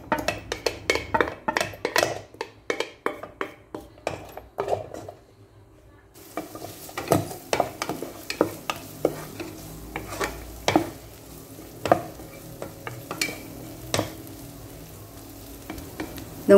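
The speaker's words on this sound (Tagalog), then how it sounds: "Pinagsabay ko na nga rin palang ilagay ang bawang at sibuyas." Garlic and onion sautéing in oil inside a rice cooker, with a series of sharp scraping and tapping strokes from a spoon against the pot over a faint, low sizzle, close by and without talking.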